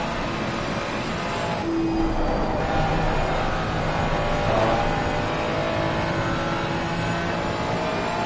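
A Ferrari race car in a Nürburgring Nordschleife racing game runs flat out over bumps, its engine a steady, loud, sustained drone with small pitch shifts and a brief higher tone partway through.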